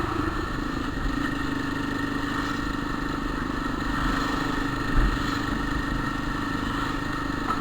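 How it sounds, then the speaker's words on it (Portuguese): A motorcycle engine roars steadily in third gear, loud and close, a continuous rumbling drone with mechanical clatter and no talk over it; the bike is being checked for a strange noise from its gearbox. "de terceira ela tá roncando"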